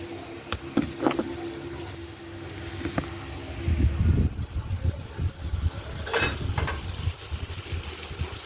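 Pointed gourds stuffed with prawn, poppy seed and mustard paste fry in a wok, making a soft sizzle broken by scattered clinks and scraping of stirring near the pan.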